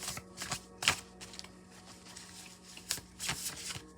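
Tarot cards are shuffled by hand in soft, papery bursts, a series of riffles and flicks at an uneven rhythm, close and fairly quiet.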